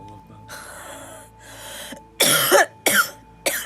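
A few harsh, loud coughs burst out close by after some quieter breathing and throat noises.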